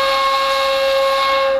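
A ney flute sustains a single steady, breathy note, loud and alone, with a clear tone and airy hiss throughout.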